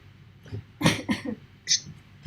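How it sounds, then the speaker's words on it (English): A few short, harsh coughs from a sick person in quick succession, close to the listener, followed by a brief pause and one more cough. "Okay, wait, I need to cough"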